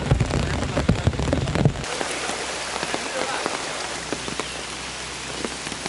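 Heavy rain in a rural hamlet in La Unión, El Salvador, a dense steady hiss of falling water with scattered drops, louder and rumbling at first, then settling into a continuous patter.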